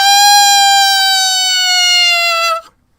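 A single loud, close saxophone note held steady for over two seconds, its pitch sagging slightly as the embouchure loosens before it cuts off abruptly into silence.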